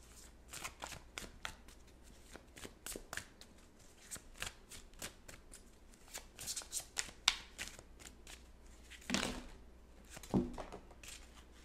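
A fairy tarot deck being shuffled by hand, with repeated quick riffles and card slaps in irregular bursts, close and fairly quiet, with two louder shuffles near the end.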